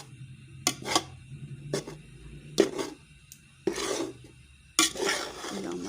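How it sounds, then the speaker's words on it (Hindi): A spoon stirring and scraping a flaxseed mixture as it dry-roasts in a pan without ghee, giving several separate bursts of metallic scraping and clatter with quiet gaps between them. "फिर ये चम्मच चलाते जाना है कि नीचे लगे ना"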